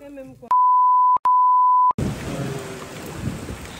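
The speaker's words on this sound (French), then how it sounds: "La pluie a commencé à pleuvoir." Rain begins to fall outdoors as a steady, close hiss of drops. It follows a brief voice and two long electronic beeps, then continues evenly to the end.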